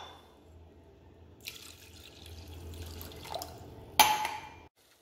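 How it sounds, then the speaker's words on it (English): Water from a glass pours into a pot for corn silk tea in a home kitchen, a soft running splash alone that swells midway and ends with a sharp clink near the finish. "Now I am putting 2 glasses of water."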